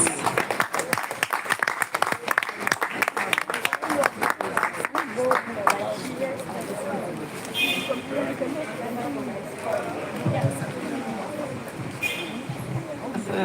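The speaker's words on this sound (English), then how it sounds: "A round of applause again, please." An audience at a book festival event applauds with dense, fast clapping for about six seconds, then the clapping fades into murmuring crowd voices and scattered claps.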